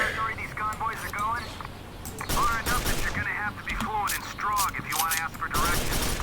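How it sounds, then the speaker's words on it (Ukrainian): Weapons fire in the video game Quake 4 as guns are test-fired, rapid bursts of shots in clusters alongside frequent talking over the action. "перевіряю зброю, як вона буде стріляти"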